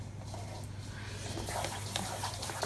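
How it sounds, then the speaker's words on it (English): A puppy comes into a room, panting and padding along with faint whimpers and small yips, fairly quiet against a steady background hum. "Here comes the other puppy. You can hear her coming in."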